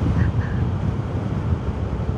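Strong wind buffeting a microphone while riding a motorcycle, heard as a loud, steady, low roaring rush that never lets up, with no voices.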